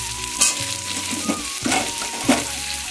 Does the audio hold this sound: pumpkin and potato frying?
yes